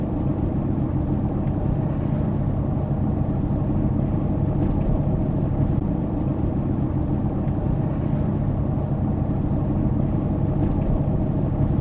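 Steady low rumble of a truck rolling along the road, continuous engine and tire drone with no breaks, heard from inside the cab at an even moderate level.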